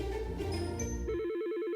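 Office telephone ringing with a warbling electronic trill in the second half, following a stretch of music-like tones, fairly loud and close.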